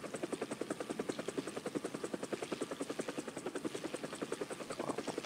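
An AH-1G attack helicopter in the War Thunder video game, its engine failing, with a steady rapid rotor chop and whine pulsing evenly throughout, fairly faint and without talk.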